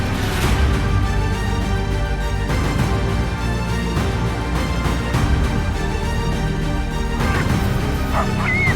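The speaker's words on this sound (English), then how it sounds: "Baby baboon was attacked by a pack of African wild dogs." A pack of African wild dogs attacking a baby baboon, yipping and barking continuously over a dense, loud wildlife soundtrack with overlapping calls throughout.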